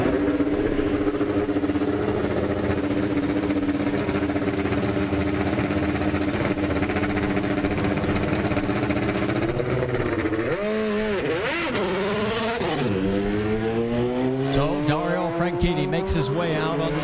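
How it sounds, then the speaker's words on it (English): Indy race car engines at Indianapolis Motor Speedway on pole day, a steady loud engine drone with rising and falling revs, then sharp revving sweeps near the end, with speech over it. "We're getting ready to start engines."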